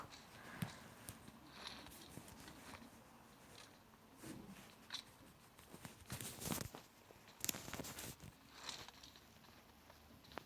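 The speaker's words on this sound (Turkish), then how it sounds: "Ayak sesi." Footsteps in PUBG Mobile Lite, faint and irregular steps mixed with game noise and scattered louder bursts, no talk over them.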